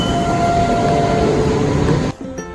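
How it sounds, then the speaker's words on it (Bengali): A Sealdah–Lalgola EMU train pulls out of Bethuadahari station, a loud, steady rumble of wheels and motors with a faint tonal whine that drops away abruptly near the end, leaving quieter station ambience. "শিয়ালদাকে লালগোলার উদ্দেশ্যে যাচ্ছে এখন ট্রেনটা।"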